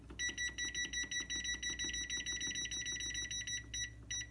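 A kitchen timer sounds a quick, rapid series of high electronic beeps in an even rhythm, faint and steady, running without pause while the timer is being set.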